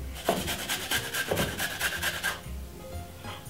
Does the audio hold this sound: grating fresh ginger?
yes